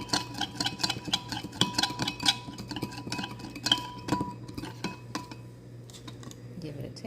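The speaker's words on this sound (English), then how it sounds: "Mix that up really well. Make sure it's good and incorporated." Spoon stirring a chickpea salad with garlic, zaatar, asparagus and cucumber in a bowl, steady scraping clinks and taps against the dish, close and moderately quiet, with no talking.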